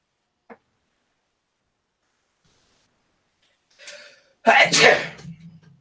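One sharp, loud sneeze bursts out close by after a quiet stretch, preceded by a brief intake and followed by a short tail.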